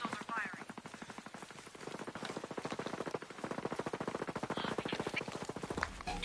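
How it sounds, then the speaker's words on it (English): Rapid automatic gunfire from enemies in Ghost Recon Breakpoint, a steady stream of dense repeating shots running the whole way with a few louder swells, no talk over it. "Hostiles are firing."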